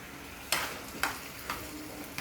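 Canned sardines reheating and boiling in a pan, bubbling and sizzling with soft bursts that recur about every half second over a constant frying hiss, close by and with no talking.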